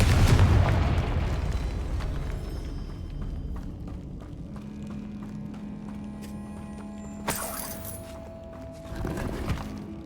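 A Confringo fire spell goes off in Hogwarts Legacy, a loud boom at the start that fades into a low rumble, with sharp bursts near the end over game ambience.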